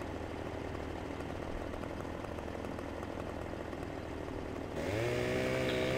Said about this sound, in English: Let's rotate our chainsaw, and I'll have to buck this one.